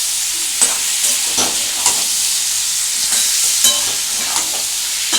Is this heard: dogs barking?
no